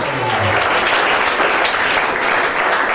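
A church congregation at a prophetic worship service applauding and cheering, a loud, dense and continuous roar of clapping with voices mixed in, sustained without a break.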